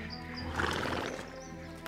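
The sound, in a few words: horse neighing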